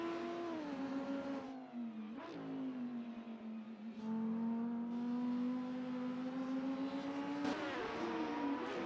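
Race cars from the 2000s DTM series battling at Hockenheim in Assetto Corsa, a loud, sustained engine drone that rises steadily in pitch with brief dips at gear shifts, another car's engine layered close alongside.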